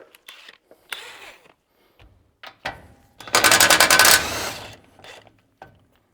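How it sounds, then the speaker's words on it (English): An impact gun fitted with a 19 mm socket removes the bolts of a trailer brake damper, giving one loud, close, buzzing rattle of about a second amid scattered metallic clinks and handling knocks. "I'll just put a 19 mil socket on the gun and we can take those off."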